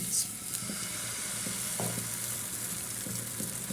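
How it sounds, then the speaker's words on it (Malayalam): Rava and coconut batter hits a hot oiled pan and settles into a continuous, even sizzle at close range, with faint clinks now and then. "നമുക്ക് ഒരു തവി എടുത്തിട്ട് ഇതിലേക്ക് ഒഴിച്ചു കൊടുക്കാം"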